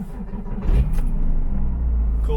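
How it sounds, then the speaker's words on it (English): A Porsche 987 Cayman or Boxster with an aftermarket exhaust rumbles loudly and deeply after a cold start, settling into a steady, throaty idle close by. "Cold start."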